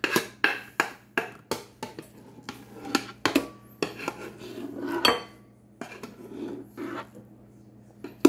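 Cooked linguica, peppers, onions, squash, zucchini and asparagus are spooned into a bowl, with repeated clinks and scrapes of utensils on dishware in an irregular rhythm, fairly close and alone with no talk.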